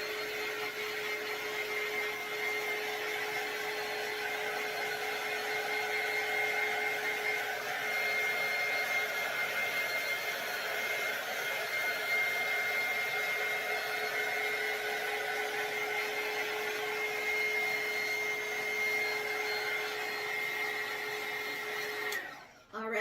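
A hair dryer blows steadily on a DIY Mardi Gras fleur de lis door hanger, a constant close whirring roar with a faint high whine that holds for about twenty seconds before cutting off.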